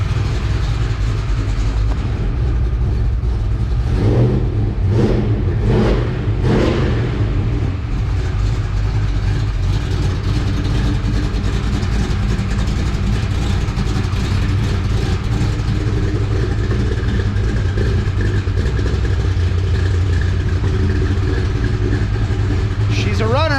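Fuel-injected engine in a 1950 Chevy running steadily close by after a quick start, with a few louder surges early on and voices talking over the constant rumble.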